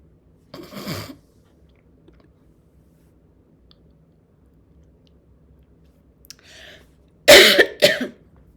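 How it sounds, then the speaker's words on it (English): A person coughs indoors in a few separate harsh bursts, one early and a louder double cough near the end, with near silence between them. "I'm sorry, I'm coughing,"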